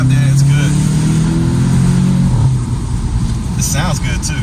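A Volkswagen Jetta GLI sedan's engine pulls hard under acceleration, a loud steady drone that climbs in pitch and then drops as the gear changes, with brief voices from inside the car near the end.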